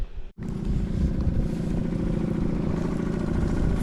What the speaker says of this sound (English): We're just motoring in the dinghy